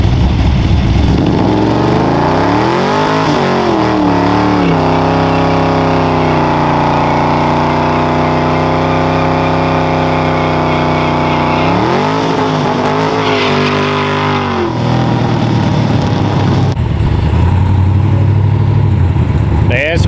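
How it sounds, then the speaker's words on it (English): LS3-powered El Camino with an 8HP70 transmission doing a burnout, the V8 roaring loud and close as revs climb, hold high, drop and rise again, with tyre squeal building toward the end. "Let's do a burnout. This is a burnout."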